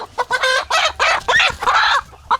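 Brown Egger chickens cluck in a quick burst of close, loud calls with short pauses between them, and no talking.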